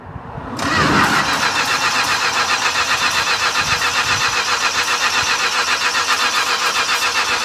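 A 1969 Chrysler, abandoned for 44 years, cranks briefly and catches, then settles into a loud, close, steady idle with a rapid rhythmic pulsing from the engine, with no talking.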